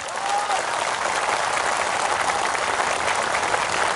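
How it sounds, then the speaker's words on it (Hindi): An audience of Tiprasa people applauds at a public gathering, dense continuous clapping that holds steady and loud for the whole stretch, with a brief voice heard faintly at the start. "थोड़ा जोर से ताली मारो तो तिपरासा लोग।"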